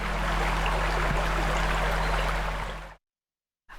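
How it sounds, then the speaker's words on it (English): A steady, broad rush of flowing water from a nearby creek in a nature preserve, constant and full for about three seconds before cutting off abruptly. "There's the creek kind of rumbling along beside us"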